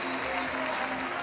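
A tennis crowd at an ATP Champions Tour match applauds in a steady, dense patter of clapping, continuous and moderately loud through the whole moment.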